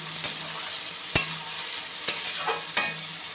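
Onion and spices frying in a pan, a soft steady sizzle broken by four sharp knocks of a spoon stirring against the pan, fairly quiet and close.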